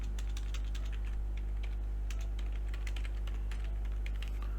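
Keys clatter on a computer keyboard in quick, uneven bursts over a steady low hum, close and fairly quiet, with no voices.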